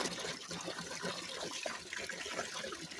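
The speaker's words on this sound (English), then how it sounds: "I'm going to pour a little bit more because I want it to come up to the top at least." Liquid is poured into a bucket mix in a gold-melting setup, a soft continuous splashing and trickling that stays fairly faint and even throughout.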